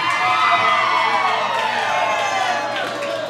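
A concert audience cheers and whoops in a dense, steady roar, with shouts and possible clapping blended into one loud, continuous wash of crowd noise and no single voice standing out.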